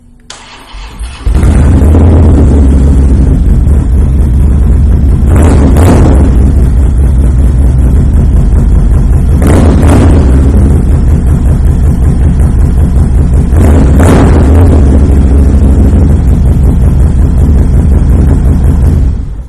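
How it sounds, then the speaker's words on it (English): A 2017 Harley-Davidson Dyna Low Rider S with a Firebrand exhaust starts up and idles loudly close by, its deep lumpy V-twin rumble punctuated by three sharp throttle blips spaced a few seconds apart before it shuts off. "I am going to take a moment right now to fire this bike up so you can hear that Firebrand exhaust."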